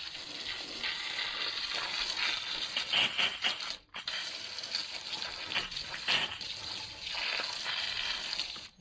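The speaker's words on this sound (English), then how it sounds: "So I'm just going to spray down, get some of this mud off of it." Water sprays hard and steadily from a garden hose washing mud off a painted surface, a continuous hissing gush with a brief cut-off partway through, no voices.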